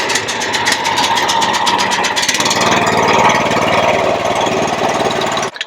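A mini crawler dumper's small engine is started after choking, giving a rapid mechanical clatter that settles into a loud, steady idle up close before cutting off abruptly at the end.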